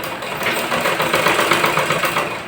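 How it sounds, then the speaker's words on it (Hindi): Sewing machine stitching along the edge of a side chain on ladies' pants, a steady close mechanical whirr with fine rapid needle ticking, running continuously without pause. "अब इसके किनारे किनारे हम सिलाई लगा लेते हैं।"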